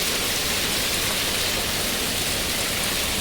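Heavy rain pours down steadily, a loud dense hiss that stays constant from start to finish with no pauses or other sounds.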